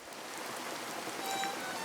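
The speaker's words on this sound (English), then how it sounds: "we have a little bit of rain here at the moment in London" Steady rain falling outdoors in London, a dense, even hiss of drops on surfaces that holds at a constant moderate level throughout, with no voices.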